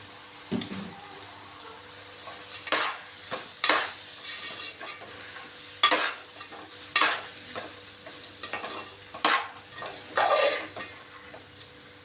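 A spoon stirs rice and salt in hot oil in a pan while cooking moong dal khichdi: soft sizzling under a series of irregular scraping strokes against the pan, close and moderately loud, with no talking.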